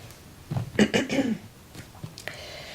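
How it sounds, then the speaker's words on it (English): One short cough with a throaty rasp, close by in a quiet room, followed by faint shuffling. "Morning cough."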